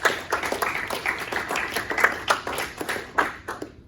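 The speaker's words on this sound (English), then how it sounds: "I think they deserve a few rounds of applause for that." Applause for panelists at an Islamic careers guidance panel, a small group clapping in distinct, uneven claps, fairly faint and thin, fading out after about four seconds.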